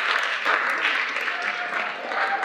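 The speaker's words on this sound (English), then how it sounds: "Everyone, let's give Damon an applause." Applause from a college convocation audience for a person named Damon, a moderate, fairly distant wash of many hands clapping that swells and eases over a couple of seconds.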